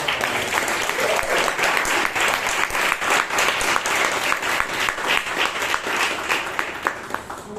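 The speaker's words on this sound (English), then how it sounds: "let's hear a big round of applause" Members at a Toastmasters meeting in Bangalore break into a big round of applause, a dense, continuous patter of many hands that stays steady and fairly loud throughout.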